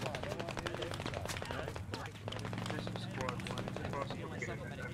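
Dense video-game battle of rapid gunfire and artillery bursts, a continuous crackle of shots with heavier thumps mixed in, loud and close, while players talk over the noise.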